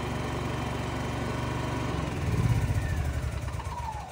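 A PK8000i engine running steadily with a buzzy, high-pitched drone that roughens and wavers near the end as it is being shut off, close up and continuous with no talk.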